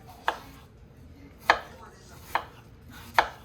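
Four crisp knife strikes, spaced irregularly about a second apart, as an OZ Machine Company Roosevelt (OZ Rosie) knife slices an onion thinly on a cutting board, close and clear against a quiet kitchen.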